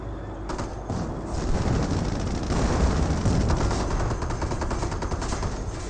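Dense, continuous battlefield gunfire with heavy artillery thumps from a 25-pounder field gun in the World War II strategy game Company of Heroes, with Sherman tanks nearby. It is steady and loud throughout, with no talk.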